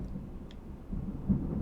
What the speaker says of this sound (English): I can feel that thunder.